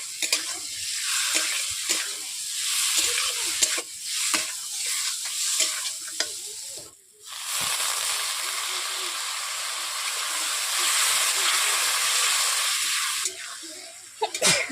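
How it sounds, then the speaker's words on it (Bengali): Potatoes sauté in a pan of spice masala for a hilsa fish curry, giving a steady, loud broadband sizzle with stirring scrapes and a brief dip midway, then a strong continuous hiss. "আলু দিয়ে এইভাবে আমি 5 মিনিট কষিয়ে নিচ্ছি।"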